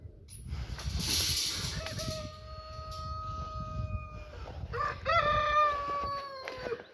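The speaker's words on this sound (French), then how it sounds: "Donc là, il nous reste des poules." Brahma chickens in a grassy aviary give drawn-out, tonal calls, one long note followed by a second sharper call, over a steady rustling, hissing background at moderate distance.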